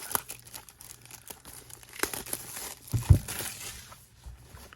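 Crinkly foil booster card packs tearing and crackling up close, irregular bursts with a louder rip near the end.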